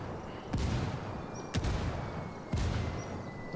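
Heavy gunfire in a tactical shooter video game: three loud, sharp blasts spaced about a second apart, each cracking out over a constant background rumble of battle.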